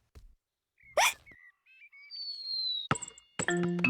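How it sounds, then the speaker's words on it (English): A cartoon piglet from Peppa Pig hiccups, a short sharp squeaky burst standing out amid quiet, followed by chirpy tonal cartoon sound effects and brief musical tones. "I know how to cure hiccups."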